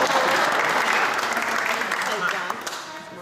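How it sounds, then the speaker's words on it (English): Wedding guests in a university chapel hall applaud during the speeches, a loud sustained round of clapping that gradually tapers, with voices mixed in beneath it. "I think it's a round of applause."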